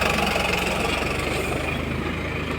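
Farmtrac 60 EPI T20 tractor engine running steadily under load, pulling a 14-disc harrow in a field; a continuous loud diesel drone with low rumble throughout, no talk.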